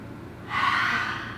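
A child's breath out during a children's yoga exercise, a single soft airy exhale heard up close after a brief quiet moment, with no talk.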